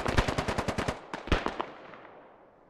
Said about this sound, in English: Your Mosin's going off.